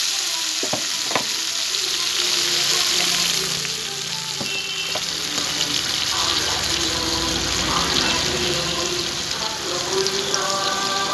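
Water poured into a pan of frying mustard paste with jackfruit seeds over medium heat, setting off a loud, steady sizzle and bubbling with scraping stirs and a few knocks throughout, no talking.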